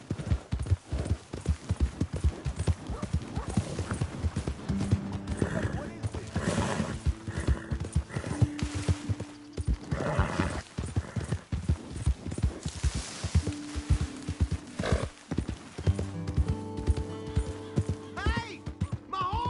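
Horse hooves clip-clop steadily through a busy Red Dead Redemption 2 game soundscape, with a horse whinnying now and then, music and voices mixed in underneath.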